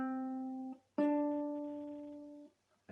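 Ukulele picking a simple tablature melody: a few plucked notes that ring and slowly decay, with brief gaps between them, clear and close, no voices.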